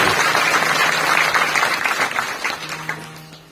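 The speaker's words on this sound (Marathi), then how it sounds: "जोरदार टाळ्या एकदा या सप्ताहाकरता झाला." A crowd at a village kirtan during an Akhand Harinam Saptah gathering claps together, a dense burst of applause that thins and fades away over a few seconds, with a faint steady hum beneath.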